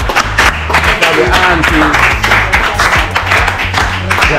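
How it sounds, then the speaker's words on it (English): An audience outdoors in Trenchtown claps and applauds in a loud, dense patter of many hands that continues steadily throughout, with a voice speaking briefly over the clapping. "give a round of applause"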